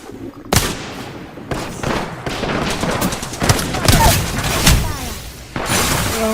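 Rapid bursts of Apex Legends gunfire crackle loudly and repeatedly, with sharp shots and impacts under occasional faint voices.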